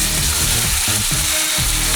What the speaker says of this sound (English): I want to hear a sizzle, just like this.